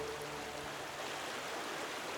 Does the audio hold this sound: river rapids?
yes